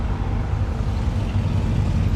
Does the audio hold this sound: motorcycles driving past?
yes